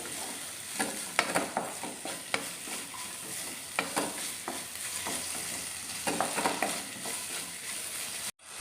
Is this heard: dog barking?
no